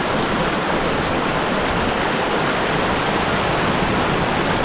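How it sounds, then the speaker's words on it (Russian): A mountain river rushes just below the rapids, a loud, steady broadband roar of flowing water heard up close and unbroken throughout, with no voices over it. "Там уже все, пороги закончились, а вот здесь вот шум какой!"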